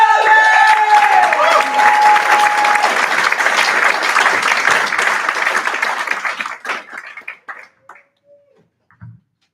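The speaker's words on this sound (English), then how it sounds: "And please welcome to the stage, Haley Donovan!" Audience applause at a storytelling showcase greets a storyteller coming to the stage: loud, dense clapping that holds for several seconds, then thins into a few scattered claps and fades to silence.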